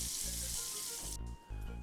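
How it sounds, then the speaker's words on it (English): Tap water runs in a steady, loud, hissing stream while hands are washed at a kitchen sink, with one brief dip in flow near the end before it resumes. "Let me wash my hands."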